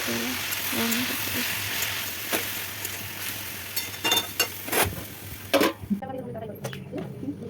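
Cooked rice fries in hot oil in a pan with a steady, soft sizzle, broken by a few stirring scrapes, while someone talks over the cooking.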